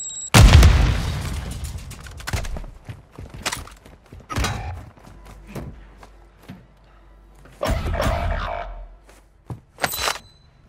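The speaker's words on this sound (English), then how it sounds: "hostile mortar strike near your position." Mortar strike explosions in Warzone 2 gameplay: a heavy close boom opens, followed by several further blasts and rumbling impacts at irregular intervals, some nearer and some farther, alone without talk.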